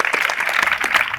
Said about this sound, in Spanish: Un aplauso para Fernando Díaz Villalobos.